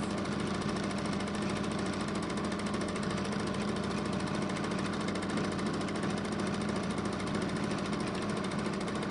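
A sewing machine stitching thread-painted leaves runs steadily at high speed, producing a dense, continuous rapid mechanical chatter that stays close and fairly loud for the whole stretch, with no pauses.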